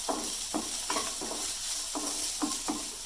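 Tomato, garlic and coconut sauté in a pan under a constant hiss. Rhythmic spatula strokes scrape the pan about every half second, each one pushing up a short louder burst of sizzle.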